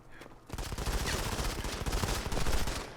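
Rapid automatic fire from the FS80 gun in the mobile shooter Modern Combat 5 on iOS, a dense continuous burst starting after a brief quiet lead-in and running loud and steady to the end.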